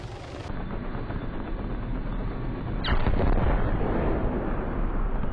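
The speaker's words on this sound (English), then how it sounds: "We just clipped those telephone wires there, and it instantly destroyed the heli and killed everyone on board" A helicopter in the Arma 3 video game clips telephone wires and is destroyed: a steady loud rotor and engine roar, then a sharp blast near the middle and a heavier, sustained rumble afterward.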